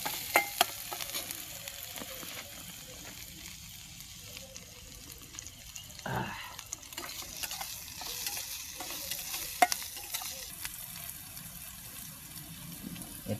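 Spices and Maggi noodles frying in a pan at a riverside summer campsite, a faint steady sizzle with soft scraping stirs and a few light clinks of the utensil.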